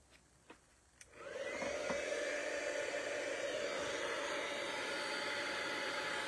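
A heat embossing tool switches on after a few small clicks and blows hot air onto a card, a loud, steady whooshing hum that continues unbroken.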